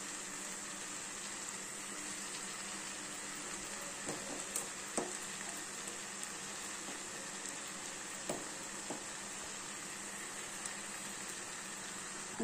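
Vegetable fried rice frying and being stirred in a pan, a steady sizzle running throughout with occasional scraping clicks of the spoon against the pan.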